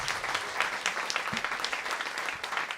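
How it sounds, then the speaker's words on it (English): A New Orleans jazz audience claps as the band returns to the stage, a continuous, moderately loud round of applause with crisp individual claps standing out from the crowd. "Give them a round of applause as they come back on here."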